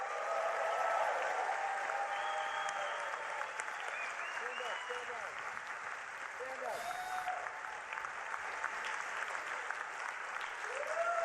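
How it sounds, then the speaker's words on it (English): Sustained applause from a large audience at the Hult Prize 2019 startup competition finals, steady clapping filling the whole stretch with a few cheers mixed in. "another round of applause for all 6 final startups"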